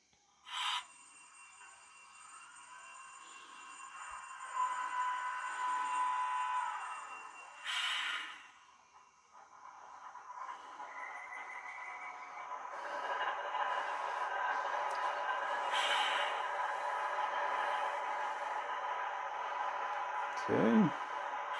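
A ScaleTrains ET44AC model locomotive with an ESU LokSound 5 decoder runs through its engine start-up: faint tones and hissing give way to a building, steady diesel drone, with a sharp chirping burst near the end.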